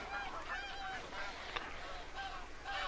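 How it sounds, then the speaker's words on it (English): Geese honk repeatedly in the hunting video game Call of the Wild, a busy flock of overlapping nasal calls at moderate distance, continuous over steady background noise. "I think I need to do some geese hunting."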